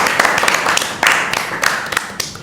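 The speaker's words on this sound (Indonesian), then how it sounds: "Tepuk tangan." Audience clapping at the opening of a campus student-organization podcast, a brisk run of scattered hand claps lasting a couple of seconds, fairly close and moderately loud.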